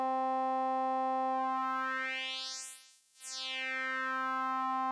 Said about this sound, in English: as I increase the shape here, that phase distortion, we can hear we're still getting a little mixture of the sound from the fundamental frequency